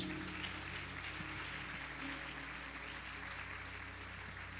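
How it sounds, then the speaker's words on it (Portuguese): A church congregation applauds, a faint, continuous patter of many hands clapping in a large room over a low steady hum, with no one speaking. "Você pode aplaudir ao Senhor por isso?"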